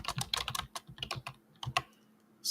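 Quick bursts of typing on a computer keyboard, close and crisp, a rapid run of clicks, a short pause, then another cluster and a final flurry.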